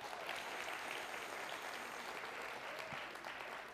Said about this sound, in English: clap your hands one good time